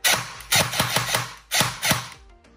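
An airsoft AK with a T238 electronic unit in a V3 gearbox fires in semi-automatic mode: four sharp, close, loud mechanical shots in two pairs, each a crisp snap followed by a brief whirring cycle, with no voices.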